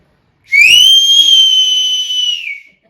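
A single loud human whistle, one sustained high piercing note held for about two seconds with a slight rise at the start, close and alone with no talking.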